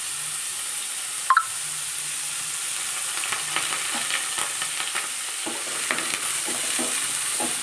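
Onions and curry leaves frying in a pan for a drumstick curry, a soft continuous sizzle with a sharp hiss and pop early on, then intermittent close stirring clicks, no voices.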